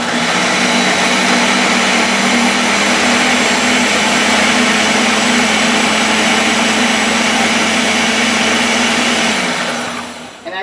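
An electric mixer beats pound cake batter, with banana and pineapple, in a steady loud whir. The motor drone holds for about ten seconds, then winds down at the end, with no talking.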